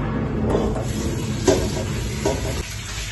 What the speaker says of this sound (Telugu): కుక్కర్లో వాష్ చేసుకుంటాను.